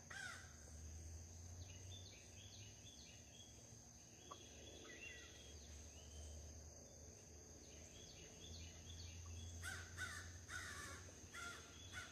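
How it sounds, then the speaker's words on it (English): Harsh, repeated caws from blackbirds in a tree about 100 feet away at sunrise, several birds calling back and forth over a steady hum of insects and crickets. "Have a couple of blackbirds talking to each other about 100 feet in front of us in a tree."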